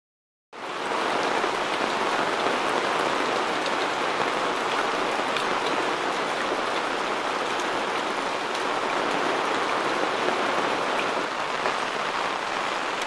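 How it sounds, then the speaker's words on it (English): Steady, heavy rain falls on an off-grid rural property in the afternoon, a dense continuous hiss that holds at a constant level throughout with no voices. "Right at the minute we're getting quite a bit of rain"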